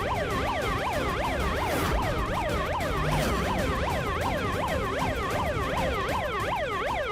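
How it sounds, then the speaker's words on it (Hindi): A bicycle horn sounds a police-style siren, rising and falling in rapid, regular wails with layered electronic tones, loud and continuous from start to finish. "पुलिस सायरन की आवाज सुनकर ये गुंडे जरूर इधर उधर भागेंगे।"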